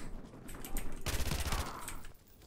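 A short burst of rapid gunfire from the MW2 Remastered campaign erupts in the middle of a brief stretch of background game ambience.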